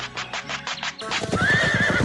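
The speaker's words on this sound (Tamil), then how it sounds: "அச்சச்சோ, குதிரைங்க வர சத்தம் கேக்குது." Horses draw near, whinnying loudly over a rising clatter of hooves, with a long neigh standing out clearly above the galloping.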